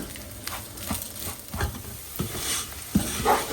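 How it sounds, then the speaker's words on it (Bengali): Rice frying in oil for white pilau while being stirred, with irregular scraping and clinking strokes over a steady background sizzle, close by and with no voices. "তো আমি এখন চালটাকে একটু ভালো করে ভাজি"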